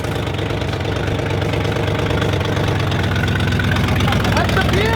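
A classic car engine idling steadily with a low, even rumble, close and continuous, as people talk over it.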